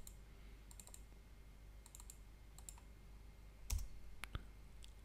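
Computer keyboard keys pressed on a quiet desk: a few scattered clicks and short clusters of taps, faint and close, with a louder keystroke near the end.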